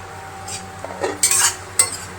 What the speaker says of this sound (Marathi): हलवून घ्यायची भाजी